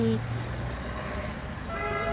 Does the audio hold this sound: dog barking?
no